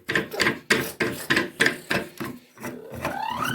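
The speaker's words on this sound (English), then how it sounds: "You tighten up the screws." Screws being tightened on a Low Roman wooden workbench make a series of short, close scraping turns in a regular rhythm, about eight strokes, ending in a rising squeak.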